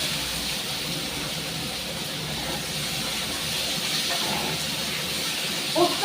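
Potatoes and chopped onion sizzling in a hot pan, a steady, even frying hiss that holds without a break throughout.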